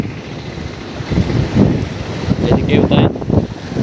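Wind buffets a microphone beside the flooded, brim-full Dulung river, with a broad rushing wash of water and brief speech in Bengali over it.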